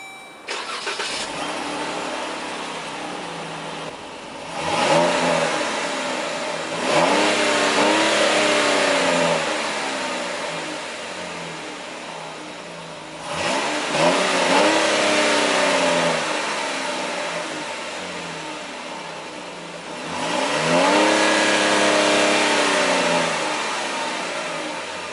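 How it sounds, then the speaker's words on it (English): A 2012 Jeep Grand Cherokee Laredo 4WD with a 3.6-liter VVT V6 starts at the push of a button and is revved hard three times, each surge rising and falling between steady idle stretches, close and loud. "And the V6 roars to life."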